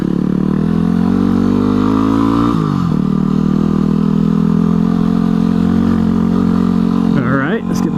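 A motorcycle rides over bumpy off-road ground, its engine droning steadily with pitch dips and surges as it jolts along, loud and close, with a rider's voice speaking over it.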